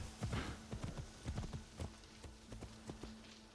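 Horse hooves clip-clop at a steady walking pace in the Assassin's Creed Shadows video game, a run of moderately close, even thuds with a faint low hum underneath.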